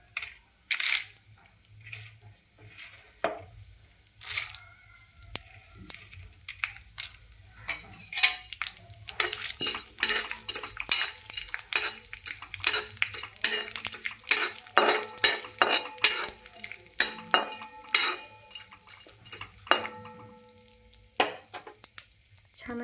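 Pumpkin seeds fry in ghee in a pan over a low gas flame, with crackling sizzle and repeated scraping and clinking of a spoon stirring against the metal pan, close and busy, no talk.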